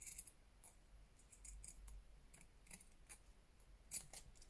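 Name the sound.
scissors trimming paper for an envelope notebook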